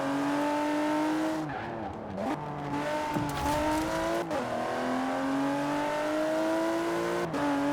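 A Land Rover Velar laps a track in Forza Horizon 4, its engine revving loudly with sharp pitch drops at each gear shift and bursts of tire squeal through the corners.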